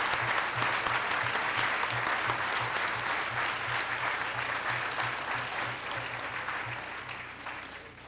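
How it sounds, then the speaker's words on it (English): Audience applause at a city council reorganization meeting in Linden, honoring newly elected council members. The clapping is loud, dense and sustained, carrying evenly for about eight seconds with a steady hum underneath, then easing off slightly toward the end. "what about a big applause for everybody that just got elected?"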